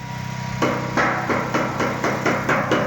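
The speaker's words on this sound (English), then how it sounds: "we're taking a hammer" A hammer strikes timber while a massive wooden entrance is built, one heavy blow followed by a steady run of sharp, evenly spaced knocks over a constant engine-like drone.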